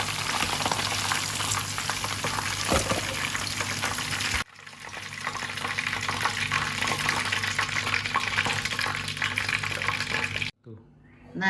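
Triangular pieces of tofu frying in hot oil, a steady dense sizzle running throughout, with a brief drop in the middle and a near-silent break just before the end.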